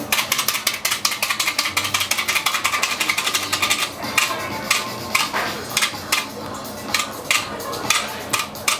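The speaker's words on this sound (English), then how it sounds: "If you have smaller holes, you can poke more." Foil stretched over a ceramic hookah bowl being poked full of holes, a fast, steady run of sharp close ticks that later slows into sparser, separate pokes.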